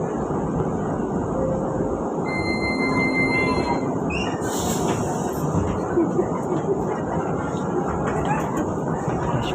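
KRL commuter train pulling into Solo Balapan station, a steady loud rumble of rolling wheels with brief high squeals and tones from the rails and brakes, close and continuous.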